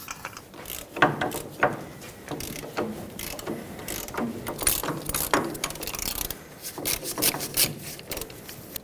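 Ratchet clicking as a wrench works on the pitman arm mounting nut of a 2011-2016 Ford F-350, with repeated close metallic clicks and mechanical rattles over several seconds.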